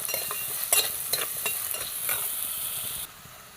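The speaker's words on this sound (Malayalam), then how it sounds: "നന്നായിട്ട് വഴണ്ടി വരുന്നവരെ ഇളക്കാം കേട്ടോ" Chopped ginger sautés in a pan for ginger curry, heard as a steady close sizzle broken by repeated scraping stirs of a spoon, until the frying sound drops away near the end, with no talking.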